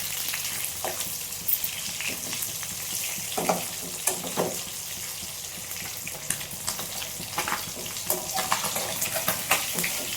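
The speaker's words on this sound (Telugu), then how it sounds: "చూడండి రెండు పక్కల బాగా వేగాయి" Fish frying in a pan at home, a steady close sizzle and crackle with occasional sharper spits and scraping clinks throughout, no voices.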